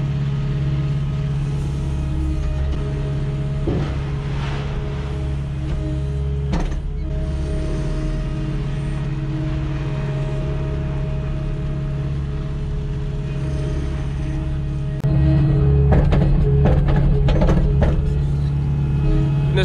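A skid loader works while cleaning out a pit, scooping material: a constant loud engine drone with hydraulic whine and creaks, a few clunks, and a louder surge of rattling and scraping near the end.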